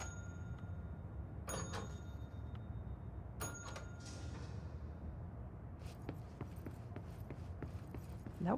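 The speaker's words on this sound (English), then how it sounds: "I have to ring the bell, I think, 3 times." A bell in the video game Control rings out twice, each strike clear and ringing briefly over a steady low ambient hum, followed by a few soft clicks and taps.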